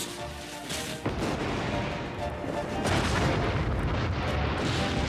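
A loud cartoon explosion on a pirate ride in a children's animated show, a sudden blast that swells into a long, rumbling roar lasting several seconds.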